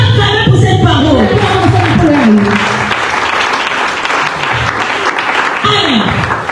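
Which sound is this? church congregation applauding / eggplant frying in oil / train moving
church congregation applauding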